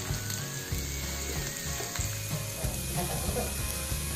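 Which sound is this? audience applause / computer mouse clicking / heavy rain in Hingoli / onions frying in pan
onions frying in pan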